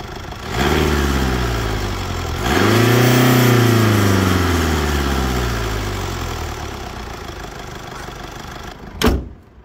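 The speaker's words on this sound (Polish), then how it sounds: "klasyczne 4 cylindry w dieslu, które sobie klekoczą" The 2-litre four-cylinder diesel in a Mercedes E 300 de 4MATIC All-Terrain estate starts and settles into a steady, clattering idle, heard close and loud, with revs rising and falling and a door thud near the end.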